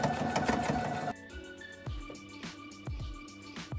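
A sewing machine stitches a ribbon strip along the length of a lining, with a dense burst of fast mechanical chatter followed by short separate runs and clicks, close and alone.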